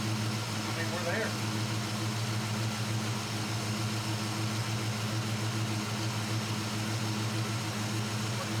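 A carbureted engine idles steadily and continuously nearby, a constant low rumble with no change in pace, while a person talks over it.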